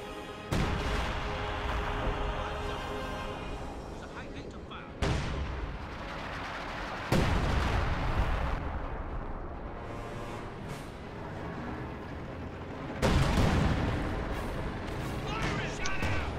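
Heavy booming cannon fire and battle blasts in a WWII strategy game, as anti-tank guns across a river pound a Panther tank, with several sharp loud reports over a continuous rumbling din and a voice talking throughout.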